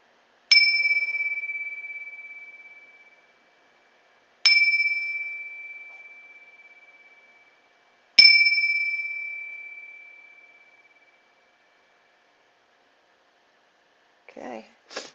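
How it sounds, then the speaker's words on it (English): Three bell strikes sound about four seconds apart, each a bright, clear ring that fades slowly into silence, with a short burst of faint noise at the very end. "I will just ring the bells to clear the energy and everything that was coming through."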